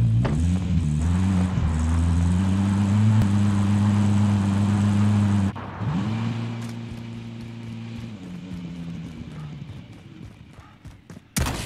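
A vehicle driven in Call of Duty Warzone gives off a loud, sustained engine drone that rises and falls in pitch, then drops off partway through before fading under softer game noise.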